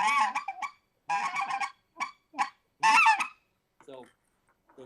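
A hunter blows a speckled goose call, imitating specklebelly geese with bursts of high yodels, short clucks and softer murmurs, each phrase separated by brief silences.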